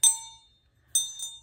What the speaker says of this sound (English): These brass bells.